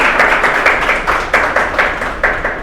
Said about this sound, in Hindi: तालियां थोड़ी सी आपकी तरफ से भी।